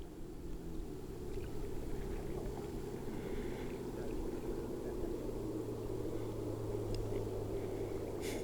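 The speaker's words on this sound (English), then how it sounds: "It's a really loud boat over there." A loud jet boat runs steadily out on the water, its low engine rumble droning continuously at a distance with no pauses.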